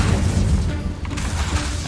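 A Confringo spell blast in Hogwarts Legacy lands as a short, deep booming explosion with a crackling rumble that fills the whole moment.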